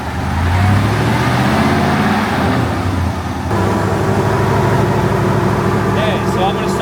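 An engine on a dyno spools up in a steady, loud droning roar that rises in pitch, with a brief shift partway through and faint voices in the background.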